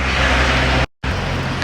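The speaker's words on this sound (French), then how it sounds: "Et le camion derrière." A truck on the road close behind at 6 a.m., with steady, loud engine and road rumble that drops out briefly at mid-point before resuming.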